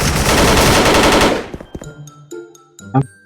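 Rapid automatic fire from an AUG A3 rifle in the Special Force video game, a loud sustained burst of shots that cuts off, followed by scattered game effects and faint tones.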